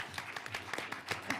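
Meeting attendees at a regional planning agency session clap briefly after a motion carries, a sparse, uneven patter of individual hand claps at moderate distance with no talking.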